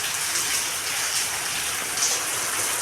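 Rain falls steadily outside a home, a dense, even hiss of drops striking surfaces, fairly loud and constant with no voices.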